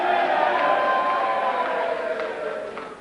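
A crowd cheers and roars in a hall at a by-election count, a loud, dense wash of voices that slowly fades.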